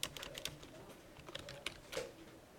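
Fast, irregular keystrokes of someone typing code on a computer keyboard, quiet and close, in short clustered bursts with no talk.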